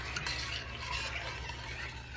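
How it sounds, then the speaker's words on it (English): Alfredo sauce with parsley flakes is stirred in a pot for a family-size chicken Alfredo, a faint, soft, steady swishing with light utensil scrapes. "Then we're going to give that a good stir."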